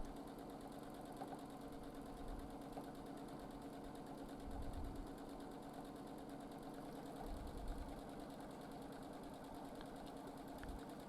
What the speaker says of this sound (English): As you can hear, the machine operates at very nice, even speed, not too fast